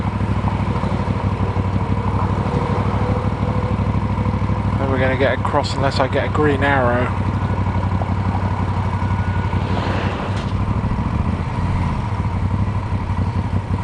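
A motorcycle engine idles and rumbles steadily on a road trip along Route 66, loud and constant throughout, with someone talking briefly over it.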